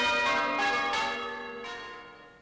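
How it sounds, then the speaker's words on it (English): Village church bells ring out in a celebration of a long life, with several bright, resonant strikes whose ringing tones hang and slowly fade away; no voices are present. "And in the village where she grew up, bells to celebrate a long life."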